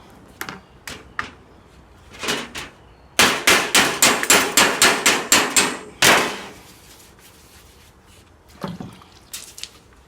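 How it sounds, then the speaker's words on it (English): Scattered hammer blows clang on the metal boot lid of a Honda S600 being repaired, then a quick steady run of about ten strikes, one heavier hit, and a few final taps. "There's a hammer."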